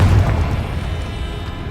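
A Confringo spell explodes in the Hogwarts Legacy video game, giving a sustained, loud, low booming rumble that fills the whole moment without any voices.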